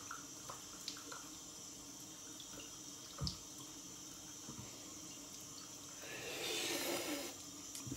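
Water runs from a bathroom tap to wet the face before a straight-razor shave, a soft steady trickle that swells louder near the end.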